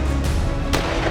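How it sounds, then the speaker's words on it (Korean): Gunshots in a Korean documentary reenactment of the assassination of Ito Hirobumi at close range: two sharp, loud reports about half a second apart over a dense, booming background. "7발의 총성과 함께"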